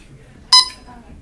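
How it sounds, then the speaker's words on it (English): A single electronic quiz bowl buzzer sounds at a high-school scholastic bowl match, one short bright tone lasting about a quarter second, loud and close against a quiet room. "Buzzer."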